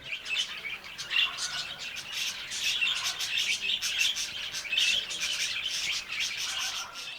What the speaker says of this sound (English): Zebra finches chirping non-stop with their sharp little voices, while the budgies sing and chatter even louder, as if they don't want to be outdone.